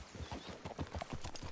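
A horse in Red Dead Redemption 2 clip-clops along at a steady walking rhythm, hoofbeats close and fairly soft against a faint outdoor background.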